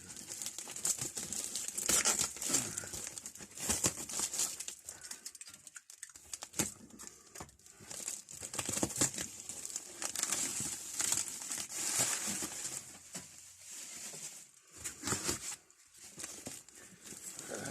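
Parcel packaging from a delivery of Bahco adjustable wrenches being pulled apart and unpacked, with steady close crinkling and rustling plus occasional tearing and rough handling bursts throughout, no talking.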